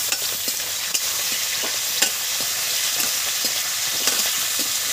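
Tomato added to a pan in a dry, oil-free cooking process sizzles steadily, with light scraping and tapping from stirring spaced through the sound.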